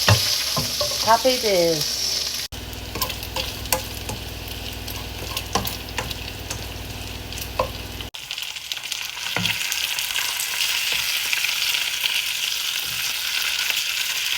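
Beef mince frying in bacon fat in a pan, a loud, continuous sizzle broken by stirring scrapes, with a short spoken exclamation near the start.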